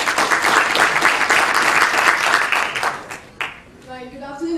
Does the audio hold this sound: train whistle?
no